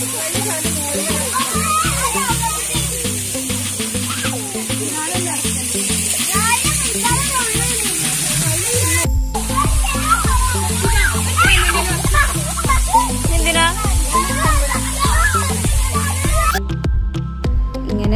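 Children play and splash in water at a waterfall, with steady sloshing and splashing throughout, loud and close, mixed with excited kids' voices and shouting over music-like tones.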